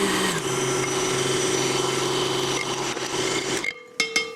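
An electric mixer whirs steadily while egg yolks go into a custard, a loud close motor drone with a tonal hum that cuts off near the end, followed by a few light knocks.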